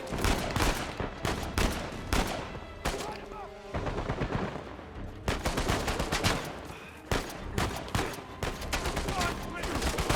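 Heavy turret gunfire in Uncharted 4, long sustained automatic bursts broken by short pauses, loud and close, with voices talking over parts of it.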